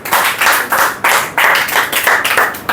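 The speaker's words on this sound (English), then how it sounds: "Clapping." Hands clap in a language-training classroom at a Lahore institute, a loud, near burst of rapid claps in several rhythmic waves from a small group.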